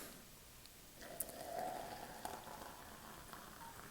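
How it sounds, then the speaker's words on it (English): Boiling water from a Jetboil camping stove pours onto ground coffee, a soft, faint hissing trickle lasting a couple of seconds outdoors. "Get yourself some boiling water out of your jet boil"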